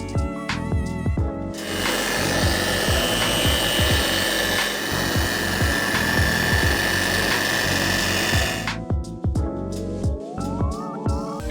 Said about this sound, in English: take our Pro Series finishing compound and go over the paint once more